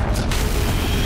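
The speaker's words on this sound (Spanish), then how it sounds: "Otra explosión más, como no." An explosion in the Horizon Zero Dawn video game gives one dense, loud, rumbling boom that fills the whole brief moment without easing off.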